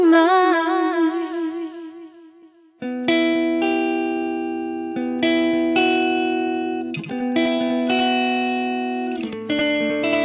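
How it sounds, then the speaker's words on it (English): A delay effect repeats a sustained, slightly distorted synth or guitar tone, with each note echoing in steady rhythmic repetitions after a long held, wavering note fades. "When blended with the original sound, delays typically produce echo-like repetitions."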